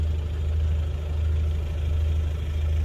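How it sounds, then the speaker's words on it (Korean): Fishing boat engines idle at Moseulpo harbor on Jeju on a rainy morning, a steady low diesel rumble droning continuously without pause. "엔진 소리만이 울려 퍼지고 있습니다"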